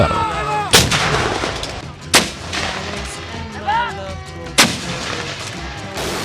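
Loud blasts from RM-70 Grad multiple rocket launchers and 105 mm howitzers boom several times at irregular intervals during a military exercise, each a sharp heavy report over constant rumbling background noise.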